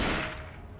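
A short, dense burst of gunshots in the Cold Fear video game, loud and close, fading quickly into a rattling tail with no voices.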